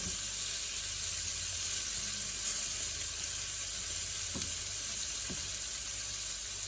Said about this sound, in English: Meanwhile, your other sardine is getting cooked as well.